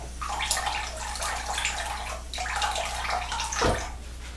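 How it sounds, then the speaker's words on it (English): Steady running water pours from a tap into a bathroom sink during wet shaving with soap and a vintage Gillette razor, a continuous close splashing stream with a brief gurgling surge near the end. "Let me get some more water in here."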